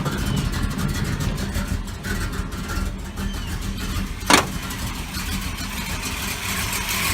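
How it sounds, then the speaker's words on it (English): A 1972 Chevy C10 pickup with a rebuilt engine and low oil pressure idles steadily and close, a low rumbling drone with one brief sharp click partway through. "Yep, it's idling now."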